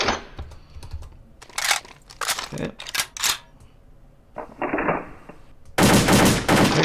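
AK-47 shots fire in the World of Guns video game shooting range, a series of sharp bursts and single cracks in irregular rhythm, ending with a longer loud burst, with a voice briefly talking between shots.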